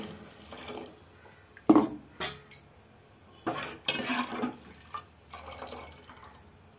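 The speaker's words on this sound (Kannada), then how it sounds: "ಇವಾಗ ನನಗೆ ಎಷ್ಟು ನೀರು ಬೇಕಷ್ಟು ಹಾಕೋತೀನಿ." Water being poured from a vessel into a pot of boiling egg sambar, heard as a few separate splashing pours with clinks of metal utensils and pans between them, close and fairly quiet, with no voices.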